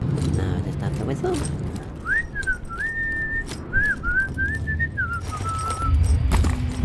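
A person whistles a short wavering tune of rising and falling notes for a few seconds over steady outdoor background noise and shuffling, with faint talk just before.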